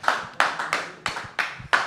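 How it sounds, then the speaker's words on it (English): A single person claps alone, six sharp, separate hand claps in a loose, slightly uneven rhythm, close by and without any talking. "Noah's doing his own applause."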